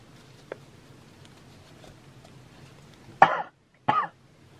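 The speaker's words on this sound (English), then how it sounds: "I had to clear my throat" Two short, rough throat clearings come close together near the end, loud against a quiet room with a faint tap earlier.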